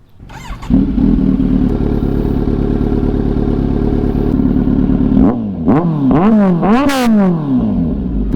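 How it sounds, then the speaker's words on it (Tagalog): A Kawasaki Z900 with a cat-delete SC Project S1 Titanium exhaust idles loudly with a deep steady burble, then is revved hard several times in sharp rising and falling bursts, close and alone. "So ang hinihintay ng lahat, ang sound check natin sa cut delete SC Project na S1 Titanium."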